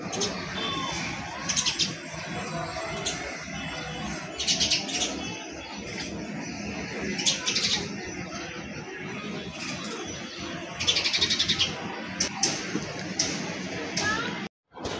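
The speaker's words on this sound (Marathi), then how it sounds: "नंतर बघा तुम्हाला दाखवते की चिमणी खरंच आलेली" Sparrows chirp in short, scattered bursts of bright tweets, some clustered, over a murmuring background with faint voices, fairly close but not loud.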